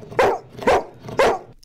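A dog in a studio lets out three loud, close barks at a steady pace, each bark sharp and full, with brief gaps between them.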